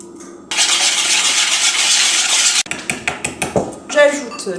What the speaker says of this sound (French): je vais fouetter vigoureusement le beurre ramolli au micro-ondes